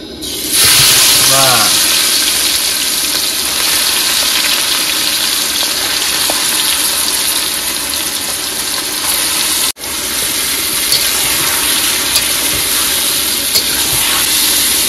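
Meat sizzles loudly and steadily in a hot pan for curry, a constant frying hiss with occasional stirring and a brief dropout partway through.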